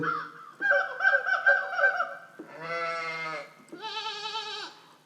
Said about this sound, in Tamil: ஆடு கத்துறது, மாடு கத்துறது, கோழி இது மாதிரி இருக்கும்.